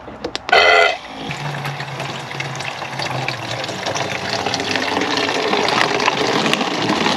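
A portable water dispenser pumps water into a bottle at an RV campsite: a short loud click-burst from the button, then a steady motor whir with gushing, filling water that continues evenly.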